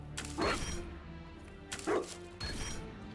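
A dog in the video game Dragon Age: Inquisition barks in three loud, close bursts, each followed by a short pause, set against the game's background sound.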